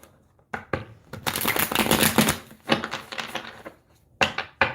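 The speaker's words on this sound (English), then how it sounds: "One more shuffle." Tarot cards being shuffled by hand, quick papery riffling bursts and soft taps in irregular rhythm, close and fairly loud.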